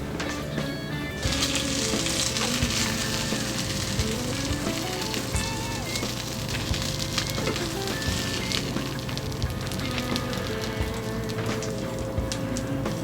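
Pecan-crusted pork chops frying in a pan give a steady, dense sizzle with constant crackling and popping, loud and close throughout, over faint background music.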